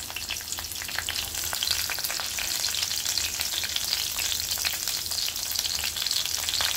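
Garlic and chillies fry in hot oil with a dense, constant sizzle and crackle, close and loud, with occasional stirring underneath and no talking.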